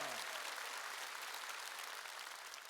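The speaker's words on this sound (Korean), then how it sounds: "박수 치라니까요." Church congregation clapping during a sermon, a continuous, fairly faint wash of many hands that tapers slightly toward the end, with a brief trace of a voice at the very start.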